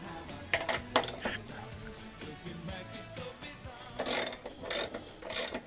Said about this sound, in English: Now I've loosened this with a longer bar